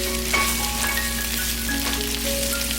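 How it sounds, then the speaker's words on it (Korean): Onion and cabbage stir-frying in a pan for Jjapaghetti give a loud, continuous hissing sizzle with light scraping, close up and unbroken for a short stretch. "양파가 투명해지고 부드러운 느낌이 들면 양배추를 넣고 함께 볶아주세요"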